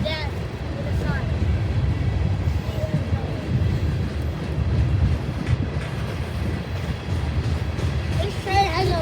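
A Norfolk Southern freight train with oddly colored cars rumbles steadily past close by, a continuous low roar with buffeting wind over the microphone and brief voices in the background.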